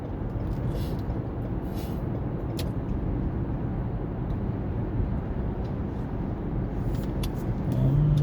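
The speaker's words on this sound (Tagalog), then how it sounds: "Maraming sasakyan." Weekend road traffic with many cars, a continuous low rumble of engines and tyres rolling nearby, growing slightly louder toward the end.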